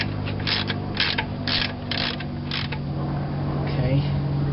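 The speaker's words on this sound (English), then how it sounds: "I'm going to put the extension on and loosen it up." Ratchet fitted with an extension working a tight lawn mower blade bolt loose: five quick bursts of clicking pawl ratcheting at a steady pace, then a lighter creak, close up over a constant low motor hum.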